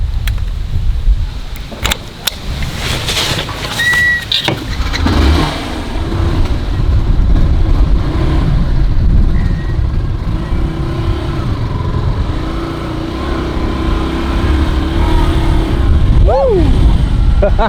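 Motorbike ride along a very bumpy road near El Nido, a loud steady engine drone with wind rumble and occasional jolts, briefly rising in pitch near the end.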